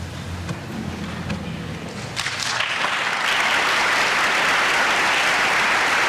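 At a Mercy College pinning ceremony, a quieter stretch with some low rumble gives way to a swelling burst of applause for the graduates, building to a full, steady clapping crowd.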